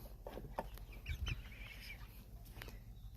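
Chickens cluck in short, irregular bursts at close range, with a few soft calls and scratchy movement in between.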